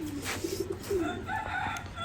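A male BRPFC club racing pigeon coos up close: a few low, throaty rolling phrases in a short burst over faint background noise.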